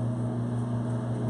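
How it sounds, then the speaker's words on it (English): An electric fan running on high in a hot room gives a steady, even hum with a low droning tone, constant and unbroken throughout. "I have the fan on. I'm sure you guys can hear it. It's on high."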